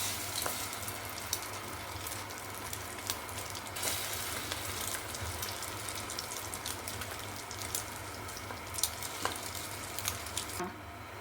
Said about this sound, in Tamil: இப்போது இந்த ப்ரெட்டை எடுத்து இந்த இதுக்கு பேட்டருக்குள்ளே நல்லா டிப் பண்ணி எடுத்து அந்த பேனுக்குள்ளே போட வேண்டியது